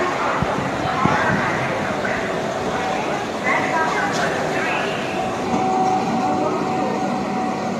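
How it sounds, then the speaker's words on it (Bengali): A train pulls into Howrah station with a steady rumble and rolling rail noise, under a moderately loud platform din and background chatter. "আমার ট্রেন চলে এসেছে, তুমি আপনারা দেখতেই পাচ্ছেন"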